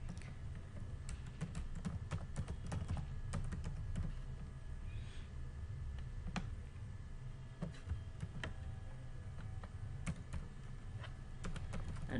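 Someone types VBA code for an Excel macro on a computer keyboard, a steady stream of close, quiet key clicks with occasional louder taps over a faint background hum.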